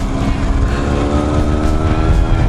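A Kawasaki KLR650 motorcycle rides off road on trails, its engine droning loud and steady close by with slight rises in revs throughout.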